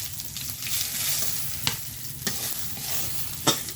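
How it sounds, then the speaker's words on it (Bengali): Meat curry stirred in a frying pan with cumin seeds and bay leaves, a steady sizzle of frying under the scraping of a spoon, with a few sharper clicks of the utensil against the pan. "ভালো করে একটু নাড়াচাড়া করতে হবে।"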